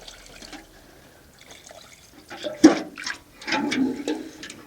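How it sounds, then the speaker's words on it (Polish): Water is poured over freshly picked comfrey leaves in a container, splashing and gurgling in bursts that grow louder toward the end, close by with no talking. "Te największe liście zrywam, zalewam wodą."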